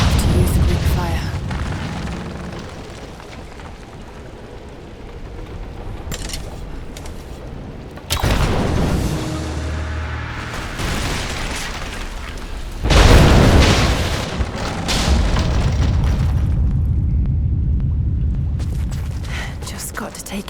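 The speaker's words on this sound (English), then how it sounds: "Looks like I'll have to use the Greek fire." Greek fire vessels explode in Rise of the Tomb Raider inside a cathedral, bringing down the supports of an unstable statue. Two heavy, rumbling booms burst out over a continuous game score, each leaving a long, low roar behind it.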